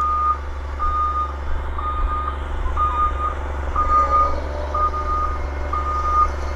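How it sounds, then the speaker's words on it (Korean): Snow-clearing machine reversing at Mount Seymour ski area, its backup alarm beeping steadily about once per second over a constant low diesel engine rumble, fairly close. "눈치우러 가는 기계 모습 여러분에게 보여드렸습니다"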